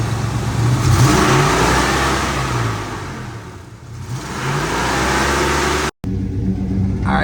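A 1987 Ford Bronco engine revs up steadily and loudly close by, holds a strong rumbling drone, dips briefly and then picks back up, with a short cut near the end.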